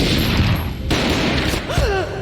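A gunshot booms in the Max Payne video game amid dense, loud game sounds, followed by a wavering tonal whine.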